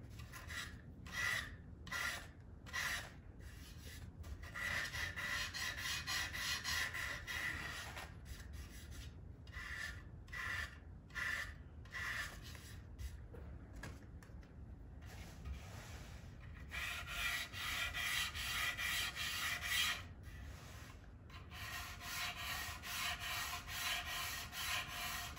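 Steady hand sanding of a wooden Les Paul-style guitar body with sandpaper held by hand, a dry rasping rub repeating in long strokes with brief pauses, close and fairly quiet, no talking.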